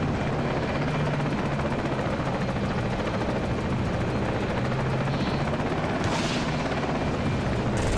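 Helicopter rotor and engine noise from Battlefield 2 with the AIX2 mod, a steady loud whir filling the whole clip, joined by brief gunfire-like bursts and a sharp noisy burst near the end.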